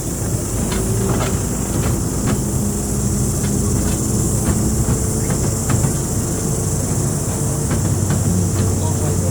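A loud, continuous rumble of railway cars rolling along the track at Driving Creek Railway, with rhythmic clicks from the wheels and a steady hiss.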